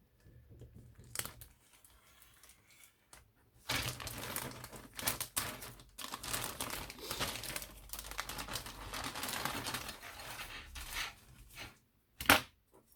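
Close plastic bag crinkling and rustling, with a few sharp snips and cracks, as screws from a Mini Hobby Models T72B tank kit are cut free, coming in bursts after a quieter start.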